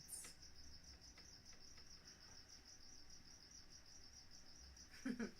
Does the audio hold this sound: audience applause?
no